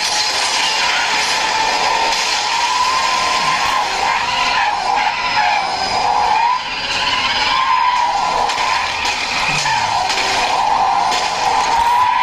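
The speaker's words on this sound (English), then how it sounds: "So this is Asphalt 8, and I'm using the on-screen steering, guys, and this is at the highest setting." Asphalt 8 mobile racing game audio: engines roar and tires skid almost continuously, loud and steady with brief dips, with no talking.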